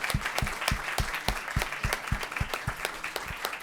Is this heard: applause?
yes